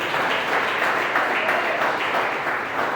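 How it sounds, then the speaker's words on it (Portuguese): Congregation applauding in church to glorify God, a dense, steady wash of many hands clapping together at close range, sustained without pause and no talking over it. "Glorifica a Deus com as palmas."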